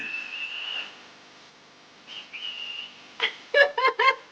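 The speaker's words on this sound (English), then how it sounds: "Blow the whistle." A whistle gives a long sustained tone, then after a pause another, followed by several short sharp blasts in quick succession.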